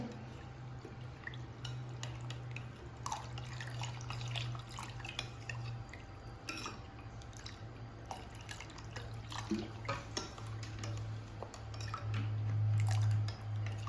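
A spoon clinks and swirls against a vessel while cold water and fennel sherbet slosh, a quiet, irregular tapping and stirring close by.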